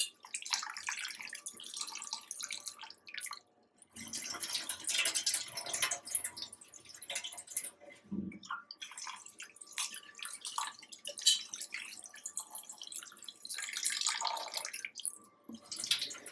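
Cut boneless fish pieces being washed in water by hand, with intermittent splashing, sloshing and dripping in short bursts separated by brief quiet gaps, close and fairly soft.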